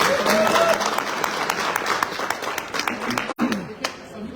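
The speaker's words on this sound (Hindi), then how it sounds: "तो मैं चाहता हूँ अमित सर के लिए जोरदार तालियां" An audience at an awards gathering applauds loudly for Amit sir in a dense, continuous wash of clapping that dips briefly near the end.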